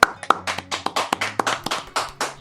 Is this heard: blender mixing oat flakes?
no